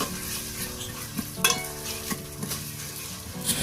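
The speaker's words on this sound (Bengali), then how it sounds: "দেওয়ার পরে এটাকেও সামান্য ভেজে নেব যতক্ষণ না আদা রসুনের গন্ধটা চলে যাচ্ছে" Ginger garlic paste fries in a pan for green chicken, a soft continuous sizzle broken by a few scraping spoon strokes and light metallic knocks, close and fairly quiet.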